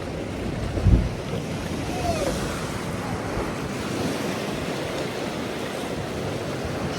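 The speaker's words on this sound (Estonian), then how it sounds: "praegu tuli ka täiega vett sisse" Seawater surges into a small rock pool at Broome, a steady loud wash of rushing, churning water with wind buffeting the microphone and one brief thump near the start.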